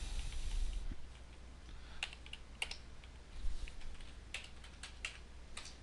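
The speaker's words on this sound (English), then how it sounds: "I can type now, it will read when I type." Typing on a computer keyboard in a word processor, with scattered sharp key clicks in short bursts and pauses over a low steady background hum, fairly quiet and close.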